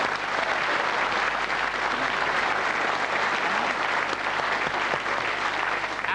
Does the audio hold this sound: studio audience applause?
yes